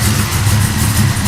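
An LS-swapped Camaro with a straight-pipe exhaust idles nearby, giving a steady, deep, loud rumble with a slightly lumpy pulse and no talking.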